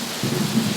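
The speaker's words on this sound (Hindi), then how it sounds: "तभी तेज आंधी तूफान के साथ बारिश होने लगी।" Heavy rain falls in a thunderstorm with strong wind, a short, dense burst of hissing downpour over a low rumble, loud and close, with no voices.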